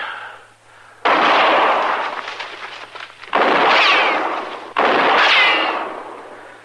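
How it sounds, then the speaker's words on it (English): Gunshots in an old Western radio drama set in brushland: three loud, sharp blasts with long echoing tails, each decaying for a second or more, spaced about two seconds apart over a low background hum. "Chester, when I fire, you roll away fast, huh?"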